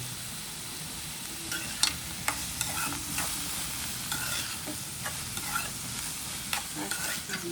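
Onions stirred and sizzling in a pan for a dried fish thokku, a steady fry hiss under scattered scraping clicks of a spoon against the pan, close by and fairly quiet.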